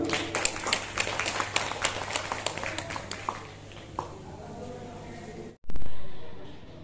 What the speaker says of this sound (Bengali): সকলে হাততালি সহকারে অভিনন্দন জানান